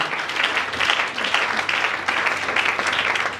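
A church congregation applauds during worship, sustained close clapping that rises and falls in waves for several seconds without a break.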